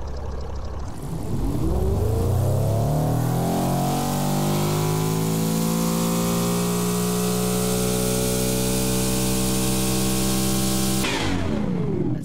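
A custom-built engine in a 2000s GT car, simulated in the video game BeamNG.drive, revs up hard and holds a loud, steady high-rpm drone for about ten seconds before cutting off abruptly, with no talking over it.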